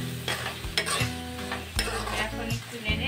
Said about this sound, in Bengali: আমি যতক্ষণ না তেল উপরে উঠে আছে ততক্ষণ পর্যন্ত ভুনা করে নিচ্ছি